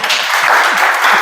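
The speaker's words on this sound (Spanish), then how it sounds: "Un aplauso de bienvenida" Welcoming applause from a workshop audience, a steady dense patter of many hands clapping at close range throughout, with no talking over it.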